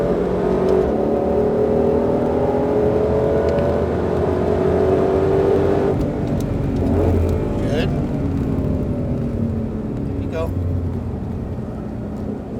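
A Ford Mustang Shelby GT500, a front-engine car, drives a race track at Exotics Racing in Las Vegas. Its engine drones loudly from inside the cabin, with pitch rising and dipping through acceleration and gear changes, while a voice speaks briefly over it.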